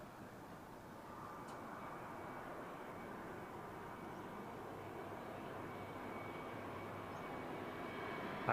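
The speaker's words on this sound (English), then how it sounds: "This one, a Boeing A321 from Naples." An Airbus A321 airliner arriving from Naples at Barcelona El Prat airport makes a steady, faint broadband roar of jet engines at a distance, slowly building in loudness with no voices.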